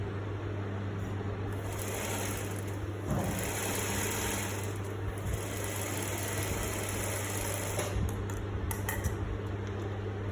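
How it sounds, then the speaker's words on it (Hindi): A sewing machine set to stitch number 5 runs through fabric to gather a romper, giving a steady mechanical whir with a faint rattle that continues for about ten seconds with no talking. "और यहाँ पर अभी मैं 5 नंबर की एक स्टिच लगाती हूँ।"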